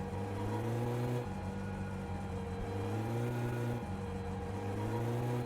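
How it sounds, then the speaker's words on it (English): Car engine running in the game My Summer Car, a loud continuous hum that rises in pitch, dips briefly at gear changes, then climbs again. "I really don't like the sound of the car"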